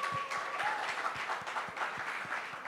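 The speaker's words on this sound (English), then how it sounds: "Please, another round of applause if you're one of them." Applause from a conference keynote audience, steady and fairly soft, with dense clapping filling the room and a faint bit of talk underneath.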